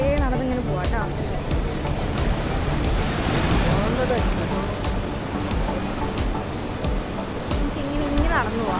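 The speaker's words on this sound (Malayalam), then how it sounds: "നല്ല തിരമാലയാണ് കണ്ടോ" Sea waves wash continuously onto the shore at Cherai beach, a steady loud surf roar mixed with wind buffeting the microphone, with people talking faintly in the background.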